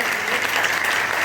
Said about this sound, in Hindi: जोरदार तालियों से उनका एक बार अभिनंदन करती हूँ